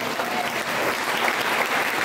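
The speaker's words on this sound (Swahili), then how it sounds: "pigie Bwana makofi" A church congregation applauds during a sermon, a dense, steady wash of many hands clapping throughout, fairly loud and close.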